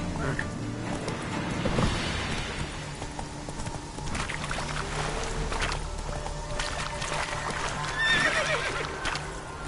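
Roach the horse in The Witcher 3 video game, neighing and trotting: steady clip-clop of hooves under a loud whinny near the start, with ambient outdoor noise. Someone speaks briefly.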